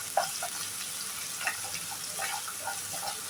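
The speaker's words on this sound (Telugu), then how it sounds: "రంగు వచ్చేంత వరకు వేయించుకోవాలి." Onions frying in a pan for an aloo capsicum curry, a steady soft sizzle with scattered crackles and a few light clinks, fairly quiet and close, no talking.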